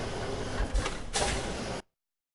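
A heavy sliding door in Fallout 4 grinds open in two broad whooshing surges, loud and close, then the sound cuts off abruptly into silence.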